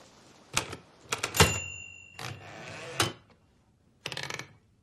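Typewriter keys clatter in irregular bursts during a war drama as a report is typed up, with sharp mechanical strikes and a brief pause before a final cluster of clacks, fairly close.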